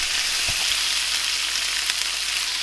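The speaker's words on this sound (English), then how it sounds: "And get these steaks on. Get in there, start cooking." Grass-fed steaks fry in olive oil in a frying pan, a loud, steady close sizzle with a couple of brief knocks from the pan, and no voices.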